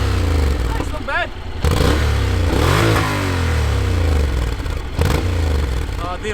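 A Honda NC750X motorcycle with its stock exhaust revs repeatedly, a loud close engine rising and falling in pitch through several throttle blips, with wind noise and a voice briefly over it.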